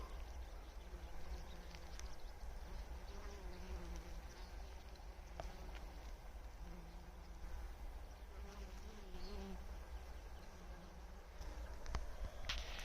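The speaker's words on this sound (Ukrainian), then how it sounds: "Дивіться, ну багато бджол на будь-яку." Bees forage over a flowering buckwheat field in the afternoon, giving a steady, soft buzzing hum with individual insects drifting closer and farther, set against a low outdoor rumble.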